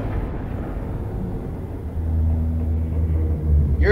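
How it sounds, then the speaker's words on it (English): A ship's jump sequence in the game Elite: Dangerous, a deep steady engine rumble that swells louder midway and holds a low droning hum, with no voices. "the jump sequence is even louder down here"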